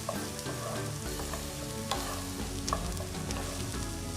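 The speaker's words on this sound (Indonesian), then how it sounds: "Kita aduk dulu." Chicken and tofu for bakmoy sizzle in a frying pan while being stirred. The frying is close and steady, with scraping stir sounds and a faint low hum beneath.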